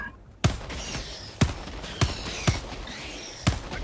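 Gunfire in the video game Helldivers 2: five loud, sharp shots spaced roughly half a second to a second apart, each with a short ringing tail, over a low ambient background.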